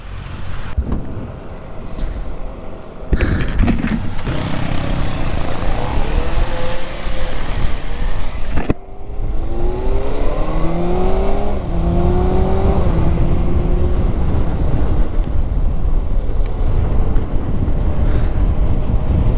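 2025 Kawasaki Ninja ZX-6R 636cc supersport motorcycle ridden hard, engine revving through rising gear pulls with clear shifts and a sharp cut near nine seconds, heavy wind buffeting on the microphone throughout.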